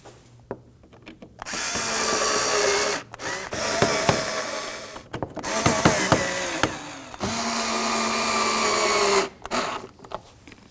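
A power tool whirs in repeated bursts, driving four Phillips screws snug on a 2016-2020 Kia Sorento fender area, close and fairly loud, each run a few seconds long with short pauses between.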